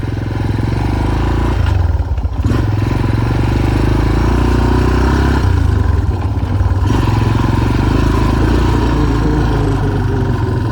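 A Yamaha Tri Moto 200 three-wheeler rides around a yard on a slightly leaking front tire, its small engine droning loud and close with a rough, rattling chug that dips briefly as the throttle eases, then picks back up.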